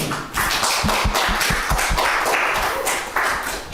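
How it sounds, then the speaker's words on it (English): A research symposium audience claps together, a dense burst of applause that swells and holds steadily for several seconds with no voices over it. "why don't we start by giving Jamie a round of applause"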